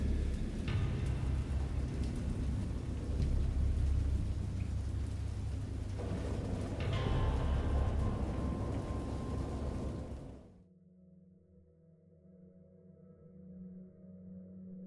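Heavy rain pours with low rolling thunder for about ten seconds in a thunderstorm in the video game Dagon, then cuts off abruptly to a quiet, low hum.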